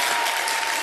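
Dense, steady applause from a live studio audience fills the short moment, loud and continuous with no break and no talking over it.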